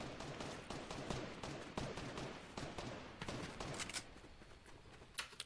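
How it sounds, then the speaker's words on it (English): Fortnite gunfire crackles in rapid, uneven bursts of shots that sound distant and faint, with no one talking over them. "That sounds like the shots that were shooting at me before"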